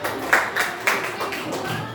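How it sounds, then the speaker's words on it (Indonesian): A classroom of pupils gives a short burst of scattered hand claps for a classmate, a few uneven claps close by with voices mixed in. "tepuk tangan buat temennya"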